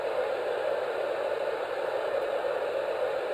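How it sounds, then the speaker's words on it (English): Steady, even white noise from a Sharper Image sleep machine, hissing continuously at a constant level, with no other sounds. "then you have white noise as well, this last one"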